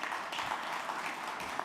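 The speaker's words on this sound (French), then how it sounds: "Et je crois qu'il y mérite les applaudissements" An audience at a conference panel on trade wars applauds the organiser, a steady wash of diffuse clapping that holds evenly throughout at moderate level.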